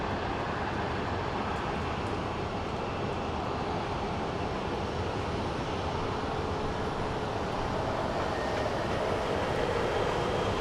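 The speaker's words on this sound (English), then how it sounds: "up next is a JSX Embraer that's headed to San Diego." A JSX Embraer jet at Phoenix Sky Harbor airport produces a steady, continuous broadband engine roar that holds for the whole stretch, with no speech.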